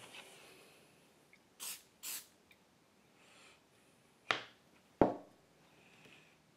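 Two short hissing bursts of PAM cooking spray from an aerosol can coat a computer case part, close and quick, followed by a couple of sharp clicks or taps in an otherwise quiet room.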